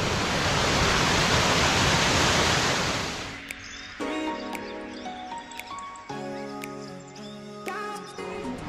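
A waterfall near a mountain trail in Banff roars as a loud, steady rush for the first few seconds. It then cuts off abruptly into unrelated tonal sounds.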